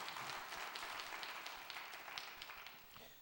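A church congregation breaks into steady, crackling applause, a dense wash of many hands clapping at once that stays even and fairly soft, then eases slightly toward the end.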